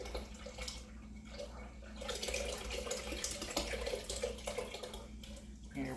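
About 32 ounces of liquid poured into a pot of low carb beef vegetable soup, a soft, steady splashing and gurgling stream close by, with a voice speaking faintly over it.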